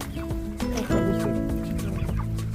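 Chickens in a meat-bird flock, a red hen and a white rooster, cluck steadily while feeding, with overlapping calls close by and some faint background movement.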